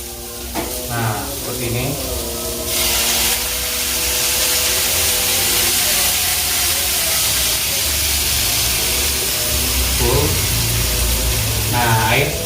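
Water poured into a hot pan with beef steak, setting off a loud, continuous sizzle and hiss that swells and stays steady, while a person speaks briefly over it.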